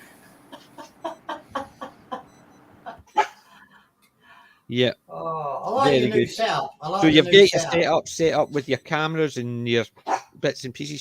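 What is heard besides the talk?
dog barking at a soft toy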